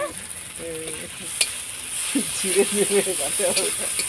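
Two green chillies sizzle in hot oil in a pan, with a steady close hiss and crackle throughout, while people talk over it.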